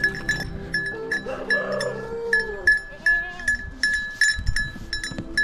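Goats in a valley farmyard bleat a few times near cows, with clanking cowbells ringing in quick irregular bursts throughout and occasional thuds close by.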